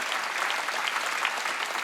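A church congregation claps together during a Sunday worship service, a dense, steady burst of applause lasting under two seconds, moderately distant with no voices over it.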